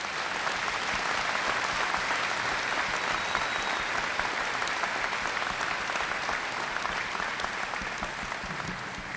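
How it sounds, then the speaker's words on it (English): A graduation audience applauds scholarship recipients and businesses, a dense, continuous roar of many hands clapping from a large crowd, steady and full for several seconds before easing slightly at the close. "Please give these scholarship recipients and businesses a round of applause."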